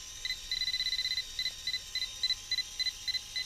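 A NEDO laser level receiver staff beeps alone in short, high electronic pulses, first in rapid runs, then in spaced single and double chirps, fairly quiet against faint background noise.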